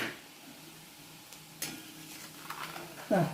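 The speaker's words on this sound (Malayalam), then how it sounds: "മുളക് ക്രഷ് ചെയ്ത മുളകില്ലേ അതൊന്ന് മൂപ്പിച്ചെടുക്കാം" Crushed chilli fries in oil as it is stirred in a pan, a soft steady sizzle broken by a few sharper scrapes and clinks of the spoon, near and fairly quiet.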